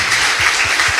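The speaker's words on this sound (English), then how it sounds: "Can we give these dope folks, once again, a big round of applause?" A brief, loud burst of crowd applause at a panel event, a thick wash of many hands clapping with no talk over it.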